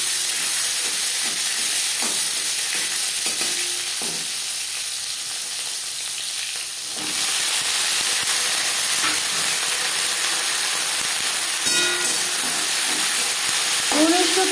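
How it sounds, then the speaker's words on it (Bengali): Cumin seeds and bitter gourd fry in refined oil in a pan, giving a steady, close, loud sizzle and hiss that briefly dips and then surges again as the gourd goes in, with occasional stirring clinks. "15-20 সেকেন্ড ভেজে নেওয়ার পর দিয়ে দেব উচ্ছে।"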